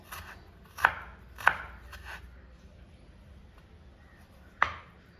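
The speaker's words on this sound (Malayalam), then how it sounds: "കൊത്തി കൊത്തി ഇങ്ങനെ അരിഞ്ഞെടുക്കുക" Three sharp knife chops on a cutting board as ginger is finely chopped, two close together then a pause before a third, with quiet room noise between.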